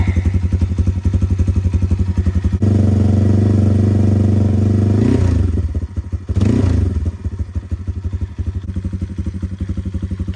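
A 2023 YCF Pilot 150 pit bike engine runs steadily up close, a loud throbbing drone that swells after a few seconds, with two quick rev blips near the end before settling back to a steady run.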